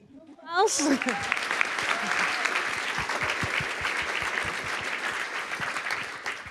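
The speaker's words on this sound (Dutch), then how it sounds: "Een hartelijk applaus voor Kirsten van Tijn." A burst of audience applause for a stage performer swells in after a brief vocal sound, then continues as steady, dense clapping from the crowd with scattered sharper claps.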